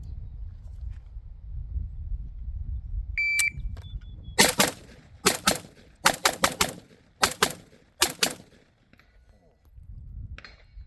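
AR-15 rifle gunfire in a timed shooting run: loud sharp cracks in quick pairs and bursts, separated by short pauses, with a faint beep before the shots and quiet gaps after.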